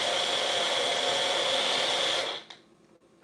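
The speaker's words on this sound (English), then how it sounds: "I'm gonna give the motor a break because these things tend to have a small motor" A small juicer motor whirs loudly and steadily in a short burst, then cuts off and spins down, leaving near quiet with a faint clunk.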